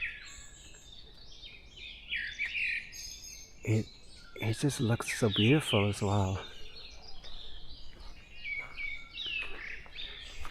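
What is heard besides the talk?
forest birds singing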